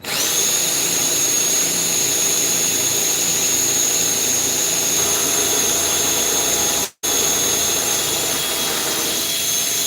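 A power tool works a piece of leather, whining steadily and loudly with a high sustained squeal, broken by one very brief cutoff near the end.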